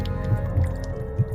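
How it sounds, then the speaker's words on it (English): Slow, soft drips fall at a steady interval over a low, constant background hum in a dark, quiet setting, with three distinct drip sounds. "Once more, she awakens to the dripping sound."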